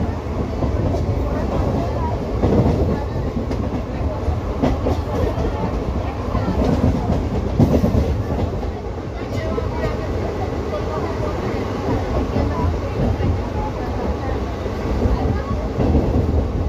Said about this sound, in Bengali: এখানে একটা ট্রেন দাঁড়িয়ে আছে, এটা ছাড়বে 5:55-তে। এটা সিউড়ি যাওয়ার ট্রেন।